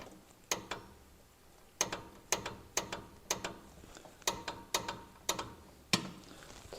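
A ratchet clicks in short bursts, tightening the lower ball joint nut on a square body truck, with about a dozen sharp metallic strokes in a steady rhythm, close and alone.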